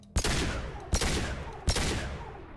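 Three heavy gunshots fired with warp ammo in the Mass Effect 2 video game, each one a sharp blast about 0.75 seconds apart with a long decaying tail, loud and close.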